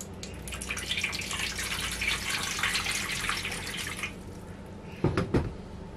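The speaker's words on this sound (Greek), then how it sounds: "βάζουμε νερό" Water runs steadily from a tap into a small baking tray for about four seconds, a broad hissing splash, then stops, followed by a few louder clinks and knocks of the tray being handled.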